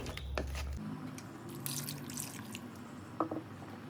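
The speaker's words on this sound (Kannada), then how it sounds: "ಮತ್ತೆ ನೀರು ಹಾಕ್ತಾ ಇದ್ದೀನಿ" Water is poured into mutton head curry (sheep's head saaru) in a pressure cooker, giving faint trickling and a few scattered drips, with a low hum at the start.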